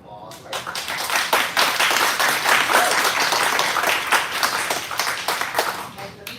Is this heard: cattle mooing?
no